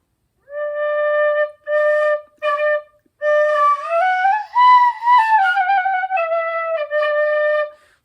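A beginner plays a whistle with a thin, unsteady tone: a few short separate notes, then a longer phrase that bends and wavers up and down before settling on held notes, played alone and close.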